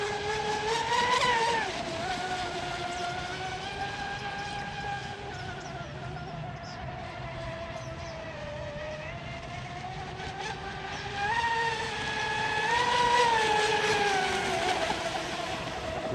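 A radio-controlled Miss Geico speedboat with a Leopard 2000kv motor whines continuously, its pitch rising and falling as it races back and forth on water at a moderate distance.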